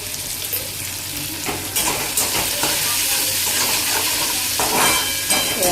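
Onions sizzle in a pan under repeated stirring, a close, steady frying hiss punctuated by scraping strokes of a spoon against the metal.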